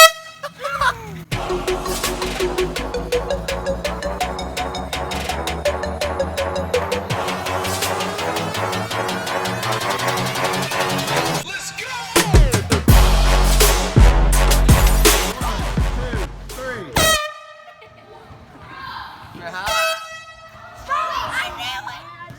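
A vehicle horn honks again and again, with long sustained blasts and some shorter toots. They sound loud and close, with pauses between bursts, and people talk over and between them.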